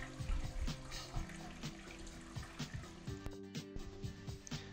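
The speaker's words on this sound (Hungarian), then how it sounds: "itt pedig visszafolyik minden a dézsába. Így megy körbe a víz." Water runs back into the fish tub of an indoor aquaponics unit, a steady trickling and splashing flow with small gurgles, moderately close and continuous.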